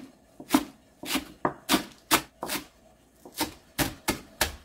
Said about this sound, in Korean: 양념장에 들어갈 재료를 썰어 보겠습니다. 먼저 쪽파를 3뿌리